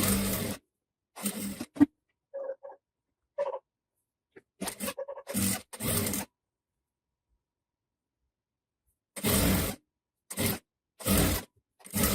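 A sewing machine runs in short, loud bursts while joining the side seams of a two-tone dress, with pauses and faint handling sounds between runs.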